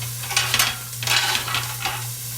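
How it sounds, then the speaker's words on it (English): Chopped vegetables sauteing in smoking-hot olive oil, a steady close sizzle broken by a few bright clinks and stirring scrapes, with a constant low hum running underneath. "we're going to let these saute just a minute and let them start turning translucent"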